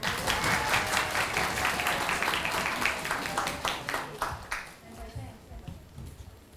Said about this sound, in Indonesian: Baik, tepuk tangannya.